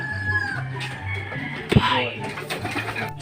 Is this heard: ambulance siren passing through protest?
no